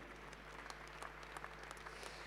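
An awards-ceremony audience applauds a nominee, with quiet, scattered claps and sharper individual hand strikes over a low steady hum.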